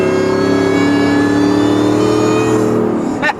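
A modified supercharger howls as the car pulls hard, its steady rising whine layered over a loud engine rev with stacked harmonic tones, then a brief sweeping shift near the end.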